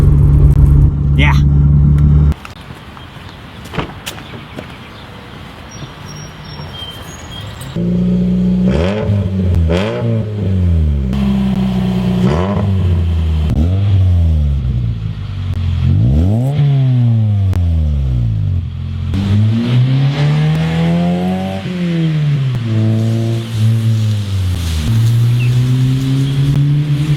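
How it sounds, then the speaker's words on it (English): A car engine revs repeatedly through an aftermarket exhaust with a low tone, the pitch rising and falling in several surges after a brief idle, close and loud throughout. "This is the same exhaust I had in the old Scion M car, and I really like the tone of it."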